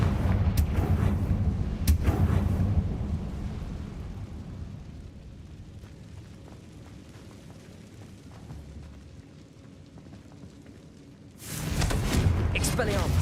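Blasting-curse explosions from Hogwarts Legacy combat, heavy booms opening the stretch, a long quieter rumble with crackling, then another loud burst near the end, with shouted voices over the fight.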